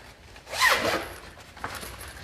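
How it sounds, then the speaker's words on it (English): A zipper is pulled open on the basket cover of a Bugaboo Donkey 3 pushchair, one quick close rasping pull followed by a faint brief rustle. "or you can open your zip up"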